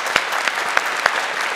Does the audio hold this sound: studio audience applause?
yes